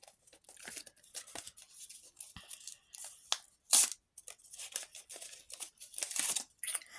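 Paper surprise packet being torn open by hand, a run of crisp rips and crinkles with louder tearing bursts near the middle and end, close and alone without speech.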